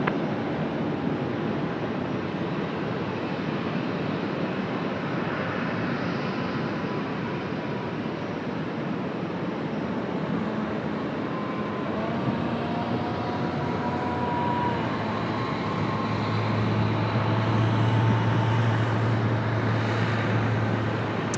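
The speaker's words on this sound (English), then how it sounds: "Next arrival, runway 34 left. Before the A380 steamrolling down behind. The Thai Airways A350." A Thai Airways A350 airliner landing on runway 34 left at Sydney Airport gives a broad, continuous jet roar from a distance, holding steady and swelling slightly toward the end.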